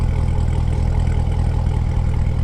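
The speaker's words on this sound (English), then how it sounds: "it definitely has a little bit more grumpiness to the sound of that exhaust right now" A C7 Corvette with an AWE catless X-pipe exhaust idles nearby, producing a deep, steady, slightly lumpy rumble that stays constant throughout with no voices.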